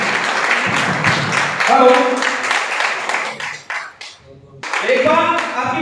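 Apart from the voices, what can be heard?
audience applause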